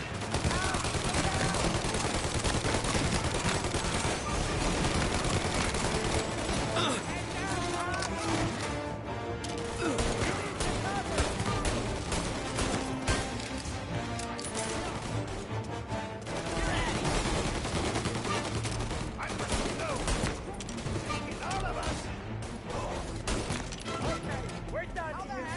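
Gunfire in the video game Mafia: repeated shots and sustained volleys under excited shouting voices, with crashes and impacts mixed into a busy, continuous firefight.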